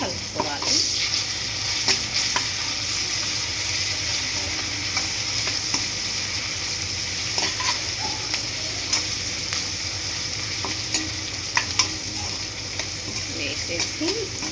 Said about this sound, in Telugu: బాగా ఫ్రై అయ్యేంత వరకు కలుపుకోవాలి